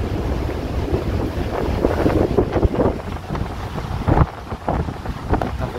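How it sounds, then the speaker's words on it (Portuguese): Strong wind buffets the open deck of an MSC Poesia cruise ship returning to Santos, a steady loud roar and microphone rumble with gusty surges and ocean wash beneath, no talking. "Tá ventando muito."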